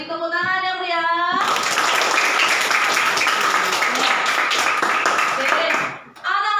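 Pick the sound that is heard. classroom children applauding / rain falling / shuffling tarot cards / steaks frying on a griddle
classroom children applauding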